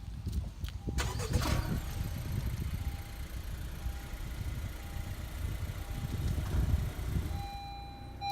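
A 2017 Honda CR-V Touring's engine cranks briefly on push-button start and catches, then settles into a steady low idle that continues to the end.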